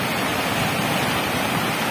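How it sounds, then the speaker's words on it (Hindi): The Sewari river in flood pours over a bridge with a dense, unbroken roar of rushing water, loud and close, with no voices. "सेवाड़ी नदी ओवर पुल चल रही है।"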